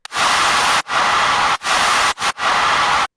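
Loud, steady hiss of broadband white noise in five bursts separated by brief silent gaps, with no other sound.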